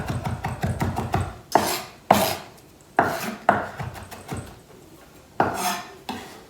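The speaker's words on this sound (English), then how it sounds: "I just come back and give it a rough chop" A kitchen knife chops garlic on a cutting board in a series of dull, uneven taps, first in a quick close run and then as scattered heavier knocks, heard nearby with no talking.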